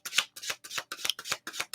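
Tarot cards being shuffled by hand, seven quick rhythmic riffling bursts in a steady pattern, close and crisp with brief silences between them.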